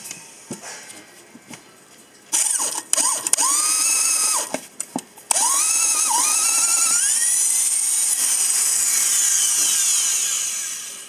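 Small Japanese 100V handheld drill rated 380W boring a 20 mm bit into hardwood: short trigger bursts, then a loud sustained whining grind whose pitch slowly sags under load, close and alone.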